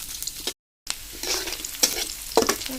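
Chopped onions frying in oil for a tilapia curry, a loud close sizzle with repeated stirring scrapes and clicks; the sound cuts out briefly near the start, then carries on.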